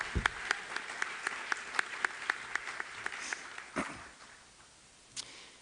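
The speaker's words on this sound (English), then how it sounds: "Greatly appreciated, Jess, and I think she deserves a round of applause for her election as IOC member." Meeting audience applauding an IOC member's election at an Olympic committee annual general meeting, sharp distinct claps in a steady rhythm that thin out and fade over several seconds.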